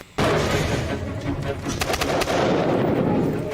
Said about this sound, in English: Once inside the building, the team then use stun grenades to disorientate whoever is inside.